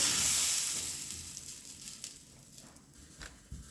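Hot cumin tempering is poured over karichi chutney, starting with a loud sizzle that slowly fades and quiets over a few seconds, with a small clink near the end.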